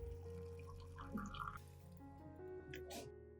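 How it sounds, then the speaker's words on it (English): Boiling water pours and trickles into a jar, gurgling and dripping close by, with some background tones alongside. "Pour in boiling water."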